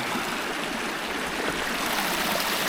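A winter creek runs among ice with a steady, full rushing and gurgling close by, unbroken for the whole stretch and with no voices.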